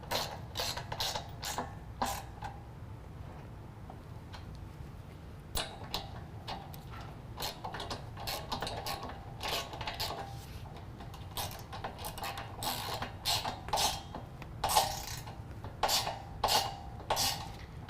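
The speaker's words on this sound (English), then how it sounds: "we're going to use a 13mm to tighten down our serrated flange nut" A 13mm ratchet snugs a serrated flange nut on a running board bracket of a Toyota Tundra, producing close, quick clicking runs in repeated bursts with short pauses between them.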